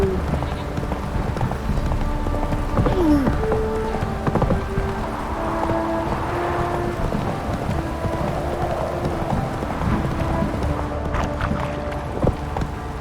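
Roach, a horse in the video game The Witcher 3, gallops at a steady clip-clop rhythm over continuous game ambience and music, loud and close throughout.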